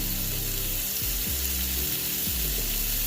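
Chicken pieces fry steadily in a pan for a crispy chicken salad, a dense, even sizzle filling the whole stretch with faint low thumps and shifting tones beneath, no voices.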